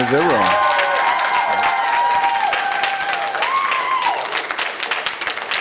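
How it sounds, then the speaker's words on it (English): The crowd at an Iowa City City Council meeting claps loudly after a motion passes 7-0, with some cheering and a sustained tone or voice over the applause before it fades. "I'm going to ask you to refrain from clapping."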